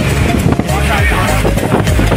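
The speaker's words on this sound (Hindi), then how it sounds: "आपको आवाज़ भी आ रही होगी तो देखिए बहुत तेज़ हवा चल रही है" Strong wind during heavy rain buffets the microphone with a loud, continuous rushing roar and low rumbling gusts.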